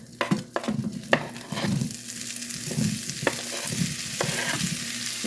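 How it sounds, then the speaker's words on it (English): Sausages frying in a pan with a steady crackling sizzle, broken by scraping stirs and occasional clicks of a utensil against the pan, close and continuous with no talk. "So we just want to add our sausages to the pan."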